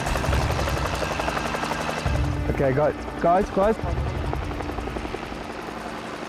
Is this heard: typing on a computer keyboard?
no